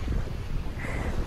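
Wind rushes across a 30 ft sailboat offshore along the Baja coast, a loud continuous buffeting roar against the microphone with surf-like noise underneath.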